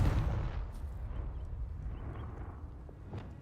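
A Confringo spell blast in Hogwarts Legacy bursts with a heavy, booming explosion at the start, then settles into a long rumbling decay with scattered crackles, loud and close, with no voices.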